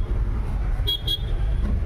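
Road traffic with two short car horn toots in quick succession over a steady, loud low rumble of engines and passing vehicles.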